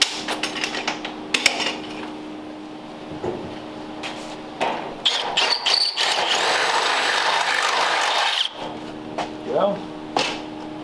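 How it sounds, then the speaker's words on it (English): A power drill boring out spot welds on a 1932 Ford roadster frame, a sustained grinding whine of several seconds between shorter bursts and clanks, with someone talking at intervals. "so we'll drill those out"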